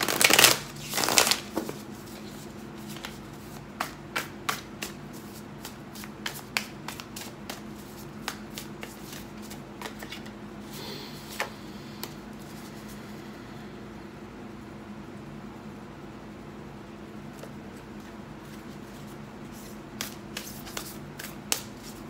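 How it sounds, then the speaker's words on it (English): A tarot card deck is shuffled by hand, with a loud riffle at the start followed by soft, steady card slides and scattered light taps, all close and quiet over a faint background hum. "you'll notice I shuffle different decks in different ways"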